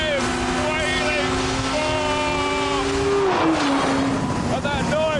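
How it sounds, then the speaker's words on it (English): A high, wailing motorbike engine revs continuously in the T-Rex vehicle, its pitch climbing and dropping, with road and wind noise close by. "that noise all the time behind you of the wailing motorbike engine"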